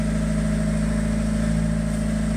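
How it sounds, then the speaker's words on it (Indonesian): Isuzu Panther diesel engine idling steadily around 1500 RPM: a continuous, even hum and rumble with no change in pitch, close and alone, with no voices. "Ini RPM dihidupkan, mesin dihidupkan, RPM di sekitar 1500."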